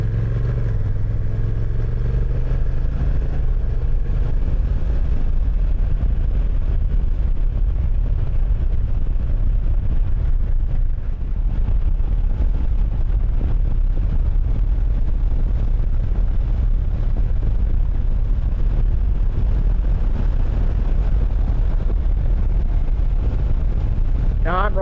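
Honda NT1100 DCT motorcycle ridden in urban mode, a steady, loud engine and road drone running continuously throughout, with a wind-roar texture and no breaks.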